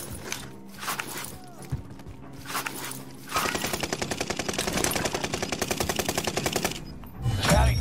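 Rapid automatic gunfire in a shooter video game, a fast even burst lasting several seconds after scattered single shots and game voice prompts, loud and close.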